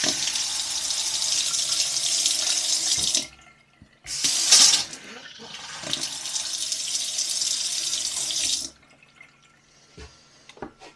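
An RV kitchen faucet being de-winterized gushes loudly for about three seconds, stops briefly, then runs again with sputtering air bursts before shutting off, leaving faint drips.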